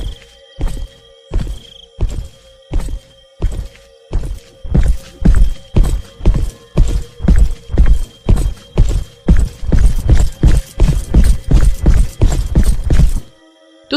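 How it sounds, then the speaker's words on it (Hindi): Hard footsteps, or steps resembling hooves, pound along in a steady, even rhythm, faint at first and then louder and quicker as they come closer, ending abruptly. "अब सुषमा को पैरों की आहट ज्यादा आने लगी थी"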